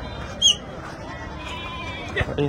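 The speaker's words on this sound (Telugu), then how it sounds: "మేకలు చాలా ఉన్నాయి." Goats bleating at an outdoor livestock market, a couple of short, wavering calls standing out over a low murmur of people talking nearby.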